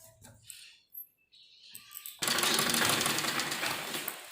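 A sewing machine starts up after scattered quiet handling noises and runs loud and steady for the last two seconds, stitching around the folded edges of a net baby frock.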